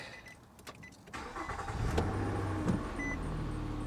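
A Nissan Maxima's engine starts and settles into a steady idle, its low rumble rising after a brief click and whir, close and fairly quiet, with no talk.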